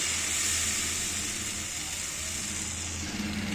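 An achappam mould dipped in batter sizzles in hot oil, a steady, close, continuous hiss with a faint low rumble beneath, with no voices.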